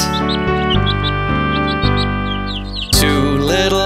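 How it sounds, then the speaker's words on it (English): Small birds chirp in quick, bright bursts over a steady tonal musical bed, with a louder flurry of twittering near the end. "Look at those two dicky birds."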